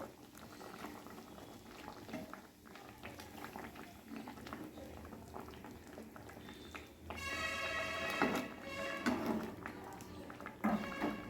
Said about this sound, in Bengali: এই দেখুন, ডিমটা অনেকটাই সেদ্ধ হয়ে এসছে।